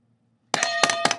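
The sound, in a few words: object placed on triple beam balance metal pan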